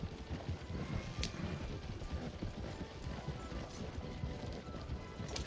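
Horse hooves clip-clop at a steady trotting rhythm in the Red Dead Redemption 2 video game, faint and low in the mix over a soft ambient background.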